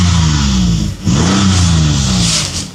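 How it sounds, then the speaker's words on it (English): A 2008 Toyota Alphard 350S with the 2GR engine gives a quick, close, loud rev. The engine note climbs, dips briefly near the middle, then surges again before falling off. "Quick engine rev."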